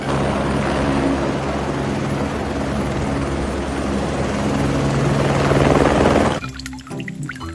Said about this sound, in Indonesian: Widih, helikopter.